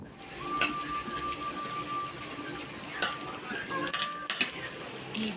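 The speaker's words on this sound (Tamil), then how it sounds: "கொஞ்சம் கொஞ்சமாக தண்ணி ஊற்றி நம்ம கரைச்சிக்கலாம்" Flour batter for banana bajji is mixed with water in a bowl, with soft stirring and scattered sharp clinks of a utensil against the bowl over a steady background hum.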